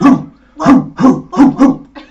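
A dog barks five times in a steady, loud series close by, followed by a softer sixth yip, with no other sounds in between.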